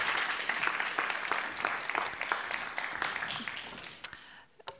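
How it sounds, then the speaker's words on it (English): Conference audience at an offshore wind investment event applauds, a dense patter of many clapping hands at moderate distance that thins out and stops near the end. "Give them an applause."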